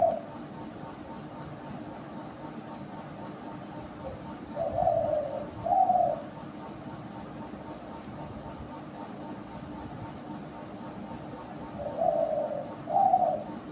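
A dove coos in short paired phrases, one pair near the middle and another near the end, over a quiet, low background hum.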